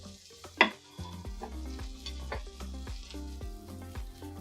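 Salisbury steak patty searing in a hot pan, a quiet steady sizzle beneath a sharp clink of metal near the start and a few soft scraping and shuffling touches, with no talking.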